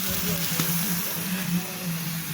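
Steady sizzling from a pot as a cook prepares a home meal with a sour ingredient added, a continuous close frying hiss over a low hum.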